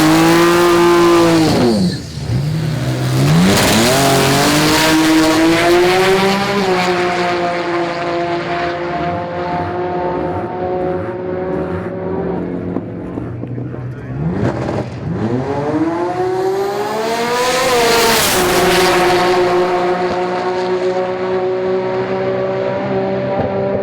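A twin-turbo 3.2 litre RB-engined Nissan R32 GTR drag car at a sport compact drag racing event, loud and alone, its engine note dropping and then climbing steadily in pitch through two hard runs.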